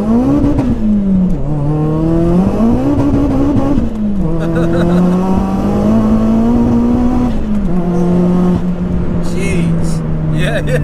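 A tuned, turbocharged Vauxhall Corsa VXR of about 500 bhp revs hard from inside the cabin as the engine note climbs, drops with gear changes and climbs again. Loud throughout, with occupants talking over it.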